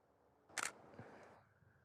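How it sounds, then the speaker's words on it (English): One sharp mechanical click-clack of a camera shutter firing at 1/2000 second, close and crisp against a quiet room. "Taking another shot at 1/2000th."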